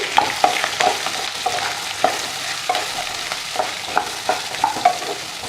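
Radish sizzles steadily in hot oil over a low flame while a spoon scrapes and stirs the pan in regular clinks.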